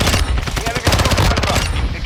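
Rapid submachine gun fire from Call of Duty: Modern Warfare II, loud and sustained bursts of fast shots filling the whole stretch with dense rattling gunfire, no talk over it.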